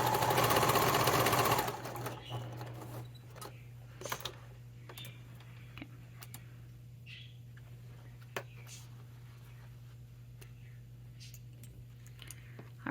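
A sewing machine stitching a Scotia Satchel from a Toriska pattern runs in a loud, close, dense burst for under two seconds, then stops, leaving a steady hum with scattered faint clicks.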